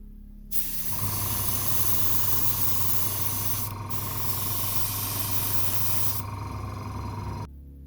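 An airbrush sprays Vallejo Model Air pale blue grey acrylic onto a 1/144 scale TIE fighter model kit, a close, steady hiss with a compressor hum that starts abruptly, runs for about seven seconds with one brief gap, then cuts off.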